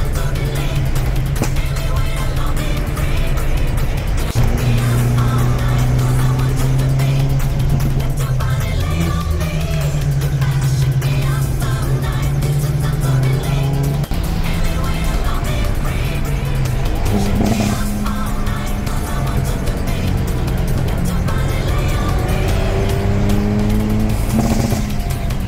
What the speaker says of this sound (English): there's another Porsche.